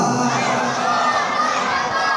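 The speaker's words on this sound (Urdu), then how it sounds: "میرے نعرے کا جواب دیجیے گا" A crowd at a religious gathering, including children's high voices, shouts a slogan response together in one sustained loud, dense roar.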